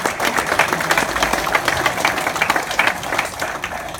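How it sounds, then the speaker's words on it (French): An audience applauds at a municipal meeting, a fairly loud, busy clatter of individual claps with audible separate hand strikes, steady throughout and unaccompanied by speech. "je crois qu'on peut l'applaudir"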